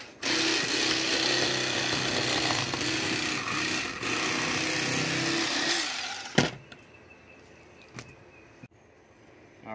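An electric fillet knife buzzes loudly as it cuts through a flathead catfish, a steady motor whine for about six seconds that stops abruptly, followed by a few faint handling knocks.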